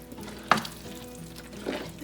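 A spoon stirs cilantro into fish curry in a pan, with a soft simmering sizzle, a sharp scrape near the start and a second, gentler stirring swish shortly after.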